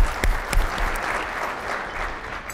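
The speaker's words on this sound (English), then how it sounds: "Let's give them all a round of applause for being the best team in the business." An audience at an advertising excellence awards event gives a sustained round of applause, a dense, even wash of clapping with a few sharper claps near the start, heard without talk.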